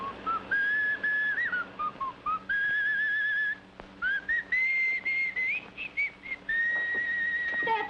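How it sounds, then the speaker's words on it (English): A man whistles a soft, wandering tune in short phrases with brief pauses between them, clear and close with no talking. "the man who grabbed me in Althea's dressing room whistled, softly, half to himself"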